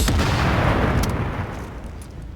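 Loud, dense gunfire in Tom Clancy's The Division, a heavy burst of shots at the start that trails off into a rumbling echo over a couple of seconds.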